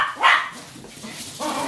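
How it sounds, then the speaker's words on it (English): Dogs bark from indoors: one loud, close bark, then a quieter second bark after a short pause, with no voices. "Got a couple of dogs there, lady."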